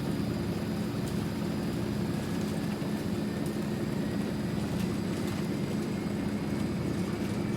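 Turboprop engines of a Transall C-160 drone steadily inside the cockpit in Microsoft Flight Simulator, a loud, unbroken roar with a high whine on top and no speech.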